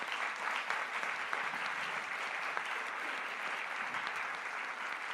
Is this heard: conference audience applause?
yes